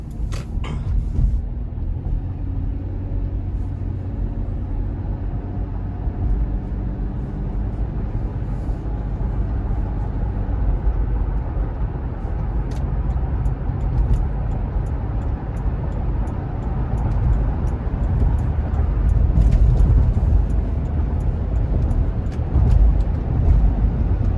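A 2014 Toyota 4Runner cruises down a highway at night, giving a continuous low road and engine rumble with steady tire roar that swells slightly over time, heard from inside the cabin with no talking.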